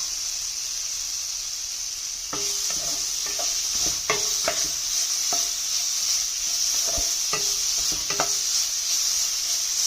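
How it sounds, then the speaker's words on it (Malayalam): Carrot, banana and grated coconut sautéing in a pan, giving a steady sizzle with repeated spoon scrapes and stirring clicks, close and alone with no talk. "ക്യാരറ്റും പഴവും നമ്മുടെ തേങ്ങയും എല്ലാം കൂടി ഒന്ന് വഴന്ന് വരട്ടെ കേട്ടോ."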